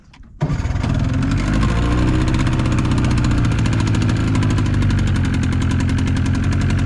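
A boat motor on a Bayou sled boat cranks briefly and then catches, settling into a steady loud rumbling idle with a rapid knocking pulse, close by at a lake.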